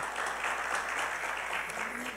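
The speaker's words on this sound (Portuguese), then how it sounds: "Uma salva de palmas para esse irmão" A church congregation applauds a fellow member, with steady, continuous clapping from a crowd throughout and faint voices underneath.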